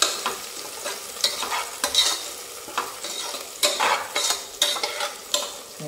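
Mint leaves for a dum biryani being stirred and fried in a pan, with repeated scraping strokes over a soft sizzle, close and fairly loud, in an irregular rhythm with no voices.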